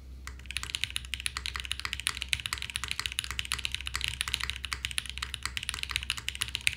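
Continuous clacky typing on a KBDFan KBD8X mechanical keyboard, a rapid, steady run of close keystrokes with a slight hollow resonance under them, no voices.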